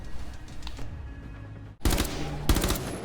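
Submachine gun bursts in Rainbow Six Siege: quiet clicks and rattles at first, then two loud rapid-fire bursts of sharp, closely spaced shots, with no one talking.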